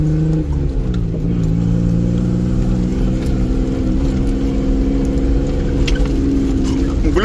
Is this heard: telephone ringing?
no